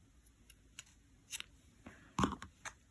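Scissors trimming a crochet yarn strap on a lace headband, a series of quiet, crisp snips and clicks close by, irregular, with one louder cut near the end.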